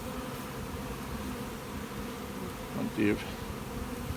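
Honey bees from overwintered nucs hum steadily while being moved into a hive, a close, continuous buzz with a brief louder swell near the end as someone speaks a few words.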